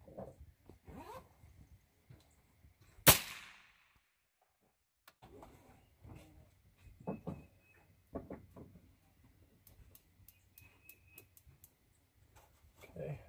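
A single sharp report from a suppressed PSA 12-inch 6.5 Grendel rifle being zeroed at 50 yards cracks out once, loud and close, between stretches of quiet handling and rustling.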